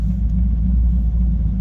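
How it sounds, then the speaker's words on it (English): A cammed Ford Mustang GT V8 idles with a deep, loud, steady rumble, heard up close and alone. "it's just not what you'd expect when you hear this Mustang fire up"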